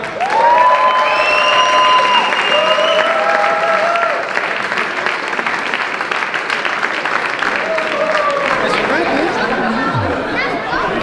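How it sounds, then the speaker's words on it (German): A crowd at a bouldering gym breaks into a big round of applause, steady dense clapping mixed with cheering and lively chatter, with children's voices and shouts rising over it. "einen ganz, ganz, ganz großen Applaus an unseren Stefan Czerner"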